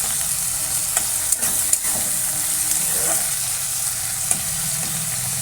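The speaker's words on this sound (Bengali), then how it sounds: "পেঁয়াজ আর টমেটো একটু ভাজা ভাজা করে আর আদা রসুন বাটাটা দিয়ে দেবো" Onions and tomatoes sizzle in hot oil with ginger-garlic paste for a Bangladeshi-style prawn bhuna, a steady frying hiss broken by a few sharp scrapes and clicks of a spatula stirring the pan.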